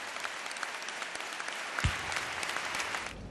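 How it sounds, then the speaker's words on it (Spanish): Sustained ovation for King Juan Carlos at a ceremony, dense and continuous applause from a large audience heard at some distance, with a few louder thuds. "Ovación cerrada para don Juan Carlos, que se ha levantado agradecido."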